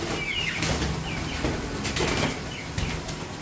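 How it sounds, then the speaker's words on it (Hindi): A pigeon flaps its wings in bursts while someone tries to catch it indoors, the flutters loud and close over a constant rushing background noise. "कबूतर को पकड़ने की कोशिश कर रहे हैं"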